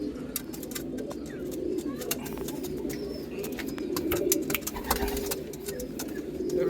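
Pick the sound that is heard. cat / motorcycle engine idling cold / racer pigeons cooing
racer pigeons cooing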